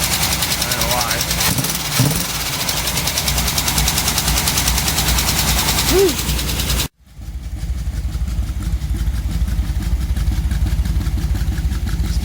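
A 1958 Chevrolet Biscayne engine with a freshly rebuilt carburetor runs loud and close with a rough, pulsing idle, cutting out for a moment near the middle before resuming; a voice speaks briefly over it early on.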